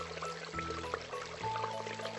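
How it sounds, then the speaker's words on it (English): A faucet left running in a kids' educational video game gives a faint, soft pouring trickle under quiet, sustained game music tones. "Millions of gallons of water are wasted every day around the world because families like this accidentally leave faucets running."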